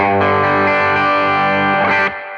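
Electric guitar through a Bluesbreaker overdrive pedal, warm saturation, a sustained chord ringing for about two seconds before a brief change and cutoff, played alone.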